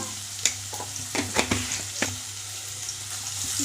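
Chopped spring onions and garlic fry with a little salt in a pan for veg manchurian, giving a soft steady sizzle broken by several sharp clinks and scrapes of a spoon stirring, close and without speech.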